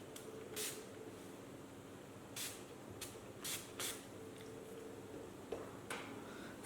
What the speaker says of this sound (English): Now I'm going to apply the setting spray once again